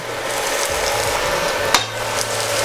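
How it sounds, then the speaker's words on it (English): Zucchini pieces dropped into a hot pan of creamy tuna pasta set off a steady sizzle with scraping and stirring clatter, one sharp knock partway through, close and loud with no talking. "now I'm just gonna add in the zucchini"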